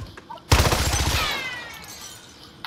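A single loud gunshot from a sniper in a video game cracks sharply, followed by a rattling burst and a long fading echo, with faint chatter before it.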